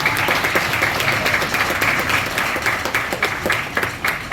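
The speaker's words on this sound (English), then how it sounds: "a round of applause." An audience of student musicians gives a jazz musician a round of applause, a loud, sustained wash of many hands clapping throughout with a slight fade toward the end.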